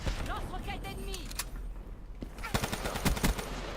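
Rapid bursts of N94 gunfire in the video game Black Ops 3, several clustered sharp shots later in the stretch, loud and close, mixed with game effects and a voice talking over it.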